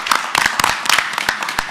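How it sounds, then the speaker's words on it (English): Audience clapping at a school board meeting, a scattered round of hand claps with irregular sharp bursts over a steady bed of applause, fairly close and moderately loud. "So if we can just give these individuals a round of applause."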